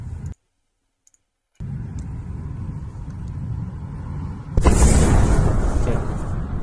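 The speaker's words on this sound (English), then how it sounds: "Saw this explosion" A wartime explosion from Ukraine footage: a sharp blast bursts in after a short stretch of steady rumble and faint clicks, then a loud broadband roar lingers and slowly settles.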